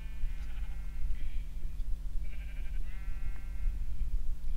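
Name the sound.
sheep bleating in Minecraft video game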